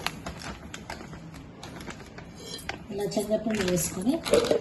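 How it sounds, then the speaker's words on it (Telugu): A noodle manchurian mixture is mixed by hand with gram flour in a bowl, with soft squishing and clinks against the bowl, growing busier and louder toward the end. "శనగపిండి వేసి మిక్సింగ్ చేసుకుందాం"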